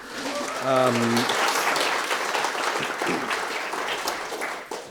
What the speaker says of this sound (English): maybe we could just give them all a round of applause